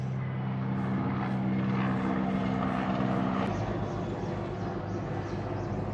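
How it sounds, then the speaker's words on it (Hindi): A helicopter flies overhead with a loud, steady rotor and engine drone and a low buzzing hum that shifts partway through as it passes, with no talking. "तो चलो हेलीकॉप्टर चला गया।"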